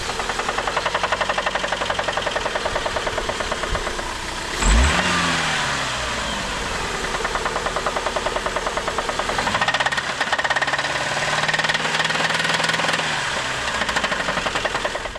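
An old minivan converted into a mini-truck runs loud and close, its worn engine knocking steadily as it revs up and down in several surges, with a sharp mechanical clunk partway through.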